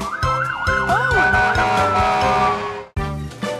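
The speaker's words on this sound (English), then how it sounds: "Now that's a loud nee-naw." A loud cartoon fire truck siren wails in rapid rising and falling sweeps, then settles into a long steady tone that cuts off abruptly before a short burst resumes.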